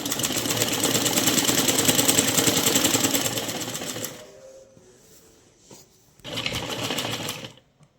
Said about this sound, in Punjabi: ਇਸੇ ਤਰ੍ਹਾਂ ਹੀ ਆਪਾਂ ਫੇਰ ਸਲਾਈ ਲਗਾ ਲਾਂਗੇ